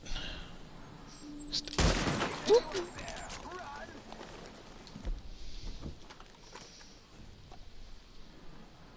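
Gunfire in the video game Red Dead Redemption 2 rings out as a loud burst of shots around two seconds in, followed by fainter scattered pops, with someone talking over the game sounds.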